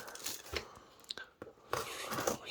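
A small blade slices open a cardboard box close up, with soft scraping, tearing and crinkling sounds in short uneven bursts, fairly quiet and broken by brief pauses.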